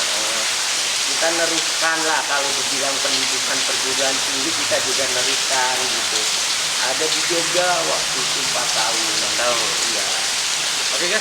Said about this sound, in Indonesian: cuaca Agak buruk, hujan ya. dan guyurannya lumayan cukup besar.